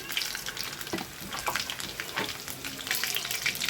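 Mustard seeds, cumin, garlic and dried red chillies sizzle in hot oil for tempering. Close, busy frying is punctuated by sharp crackles and pops from the seeds, with no talking.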